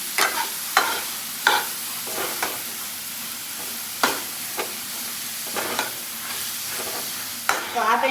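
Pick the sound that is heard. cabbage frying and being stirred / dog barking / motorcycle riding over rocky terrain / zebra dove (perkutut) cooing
cabbage frying and being stirred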